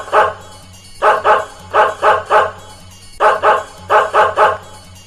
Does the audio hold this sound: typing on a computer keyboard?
no